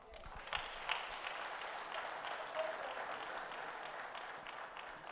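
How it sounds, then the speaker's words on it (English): Faint, distant audience clapping at a political gathering in Toronto, a soft continuous patter with a few sharper claps standing out. "We need to clap for him."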